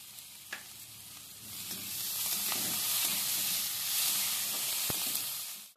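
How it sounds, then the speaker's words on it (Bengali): Spice masala with onion and tomato fries in a pan, a soft steady sizzle with occasional faint stirring taps, fairly quiet and with no talking. "এবার সব মশলাগুলো ভালো করে ভেজে নিয়ে আর মশলাটা ভালো করে কষিয়ে নেব।"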